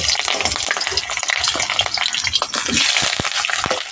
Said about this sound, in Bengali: তেল গরম হয়ে গেছে, প্রথমে আলুগুলো ভেজে নেব।